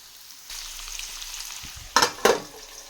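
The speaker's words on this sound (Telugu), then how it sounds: "పసుపు కూడా వేసి మగ్గనివ్వాలండి ఈ ముక్కలన్నీ సిమ్ములో బాగా మగ్గాలండి" Bitter gourd pieces with salt and turmeric sizzle in a pan, a steady frying hiss with two sharper bursts of sizzle as the pieces are stirred, close and alone.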